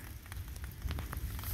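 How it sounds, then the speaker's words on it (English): During a thunderstorm, rain drums on a tarp in close, uneven patters over a short stretch, with a low rumbling background. "And it's starting to rain."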